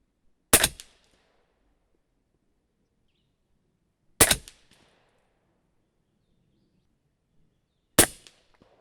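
Three single subsonic shots from a 300 Blackout rifle firing Hornady 190-grain Sub-X handloads, each a sharp loud crack with a short decay, spaced about four seconds apart with quiet between.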